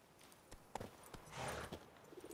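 Horse hooves clip-clop in The Witcher 3, a few faint, soft, irregular beats on the ground with a brief swell of noise in the middle.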